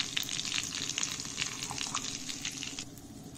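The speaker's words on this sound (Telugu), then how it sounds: "ఈ ఇంగువ దీనిలో వేసేద్దాం." Asafoetida hits hot ghee for a rasam tempering and fries with a close, steady, crackling sizzle. Small pops run through it, and no one speaks.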